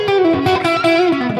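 An electric guitar played through reverb and delay effects, with a sustained, slightly distorted melodic line whose notes bend and smear into a washy tail, loud and alone.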